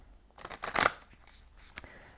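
A deck of oracle cards is riffled and shuffled by hand at close range, a short papery burst followed by a lighter flick, with no talk.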